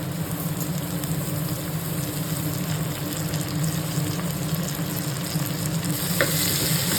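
Coriander leaves sauté with softened onions in a pan for mutton biryani, giving a steady, loud, close frying sizzle with faint stirring and no voices.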